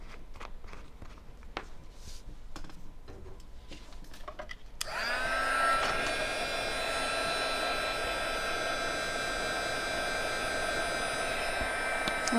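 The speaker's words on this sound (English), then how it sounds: "When you're embossing, you want to apply the heat gun just long enough to melt" A heat gun melting embossing powder on a stamped paper craft project switches on partway through and runs as a loud, steady, even blowing whir until the end, with no talk.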